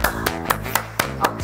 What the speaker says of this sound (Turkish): Alkışla, işte alkışla.